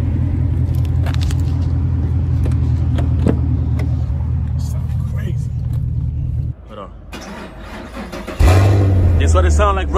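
Deep, loud rumble of a Camaro SS V8 with an AWE axle-back Track exhaust idling close by, dropping briefly before a heavier rev surges back, with people talking over it.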